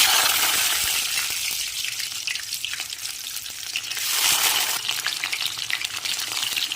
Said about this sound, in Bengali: পাঁচফোড়নটাকে খুব সুন্দর করে একটু পোড়া পোড়া হলে পরে এরপরে বাদামগুলো দিয়ে দেব।